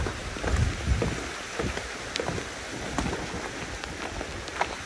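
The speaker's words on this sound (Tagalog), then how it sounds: "Ay, ang lakas na ng ulan." Heavy rain pours steadily onto a roof and surrounding surfaces during a downpour at a flood-hit house, a dense constant hiss with scattered louder drops, close and continuous throughout.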